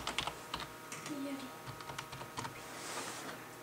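Fingers tap a computer keyboard to enter a password, a quick irregular run of soft, close clicks with short pauses between keystrokes and a faint voice in the background.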